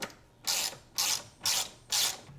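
Socket ratchet clicking in four quick, evenly spaced bursts while snugging the bolts of a GR strut tie brace on a Toyota Supra, close and crisp with no talking.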